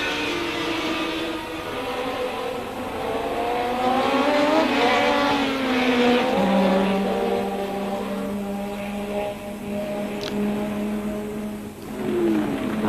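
1984 Formula 1 race car at the San Marino Grand Prix, engine note rising and falling through gear changes as it drives past, a steady loud whine over crowd and track ambience with no talk.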